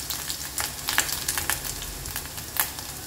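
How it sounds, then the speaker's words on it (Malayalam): Crushed ginger and garlic sizzle and crackle steadily in hot oil as they are stirred, with scattered sharp pops and scraping bursts throughout, close and fairly loud with no talking. "ഇഞ്ചി വെളുത്തുള്ളി ചതച്ചത് പൊട്ടല്ലേ, പൊട്ടല്ലേ. അതിന്റെ ആ പച്ച സ്മെല്ല് പോകുന്ന വരെ ഒന്ന് നമ്മൾ ഇളക്കി"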